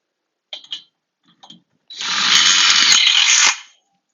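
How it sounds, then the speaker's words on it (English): Power driver runs a 3/4 inch framing screw through an L bracket on the inside of a wall framed for a swing door: a few short clicks, then a steady whirring drive of about a second and a half that stops abruptly. "attach the L bracket to the inside of the wall start using a 3/4 inch framing screw"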